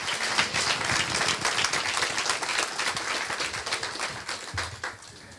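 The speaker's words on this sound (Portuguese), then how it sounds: "Aplauda ao Senhor, porque só Ele é digno de honra e glória." Church congregation applauding during a Sunday worship service, a dense, loud wash of clapping that holds steady for several seconds.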